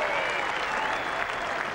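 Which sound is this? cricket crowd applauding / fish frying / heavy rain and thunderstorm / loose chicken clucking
cricket crowd applauding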